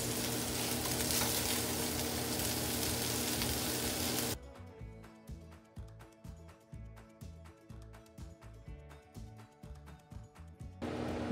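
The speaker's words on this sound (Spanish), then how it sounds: "lo voy a retirar para seguir salteando los vegetales" Vegetables sauté in a pan for Chinese-style seafood fried rice: a dense, loud sizzle of frying that abruptly drops to quieter popping and crackling with rhythmic stirring, then surges again at the very end.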